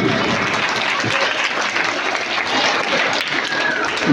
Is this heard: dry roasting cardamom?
no